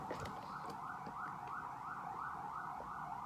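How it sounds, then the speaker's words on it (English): Emergency vehicle siren wailing at night, a steady rising-and-falling tone repeating about every half second, continuous and fairly loud over low traffic rumble. "Yo, these sirens, non-stop."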